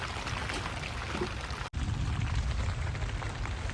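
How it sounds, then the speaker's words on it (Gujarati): Heavy rain pours steadily during a strong storm in a dense, loud hiss, briefly cutting out for an instant before resuming just as strong. "વરસાદ હજી ચાલુ જ છે તમે જોવો મિત્રો કેટલો વરસાદ આવે"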